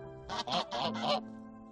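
Geese give four quick, nasal honks in a row, faint and fairly close, then fall silent, with no voices around them.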